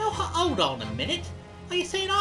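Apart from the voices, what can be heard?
No distinct noise like a dog, phone or traffic.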